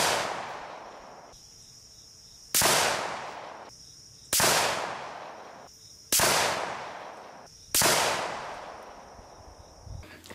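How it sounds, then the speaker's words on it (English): Five sharp, loud rifle shots fired unsuppressed at an outdoor range, evenly spaced about two seconds apart, each with a long decaying echo and no talking. "Now, removing the suppressor, fired another 5-round group"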